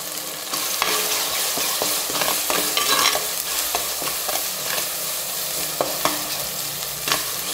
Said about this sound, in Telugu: ఫ్రై అయ్యేంత వరకు తిప్పుకుంటూ ఉండండి।